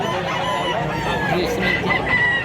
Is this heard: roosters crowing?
yes